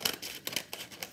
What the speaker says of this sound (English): get a pair of scissors and shape the outside of your bowl